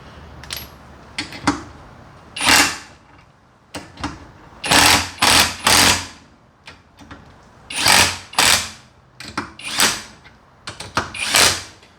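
An OUHOUG 21V compact cordless impact wrench working on bolts and nuts fires in roughly eight short, loud rattling bursts with quiet pauses between them, heard close and alone.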